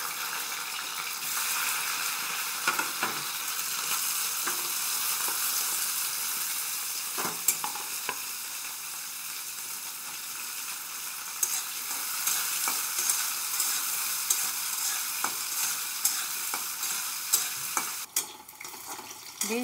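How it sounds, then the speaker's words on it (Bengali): Long-cut green beans fry in oil with a continuous dense sizzle, close and steady, punctuated by occasional stirring scrapes and clicks of a utensil in the pan. "তো প্রথমে বিনসগুলো ভেজে নিচ্ছি।"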